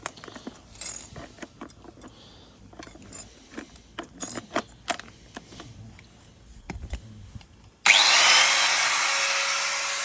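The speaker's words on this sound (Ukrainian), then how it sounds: "Для тестування, звісно, будемо використовувати болгарку." Scattered clicks and metallic handling noises, then an angle grinder abruptly starts and runs with a loud, steady high-pitched whine.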